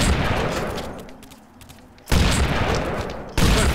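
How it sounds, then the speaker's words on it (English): Gunfire in the Family Guy: Back to the Multiverse video game, dense bursts of shots that cut in abruptly, drop away to a quieter lull, then return loud and sustained with a sharp jump near the end. "For backup, I'm taking fire"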